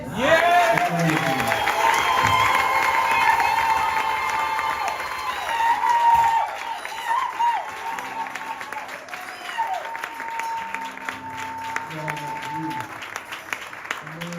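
A church congregation applauds and cheers loudly and steadily, then the clapping thins out as a voice speaks over the fading applause.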